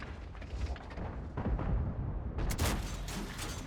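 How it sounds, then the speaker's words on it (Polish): A tank cannon fires in a tank battle video game, a deep rumbling boom followed by a bright, loud crackling blast and ringing tail, heard close with no talk over it. "Niepotrzebny strzał."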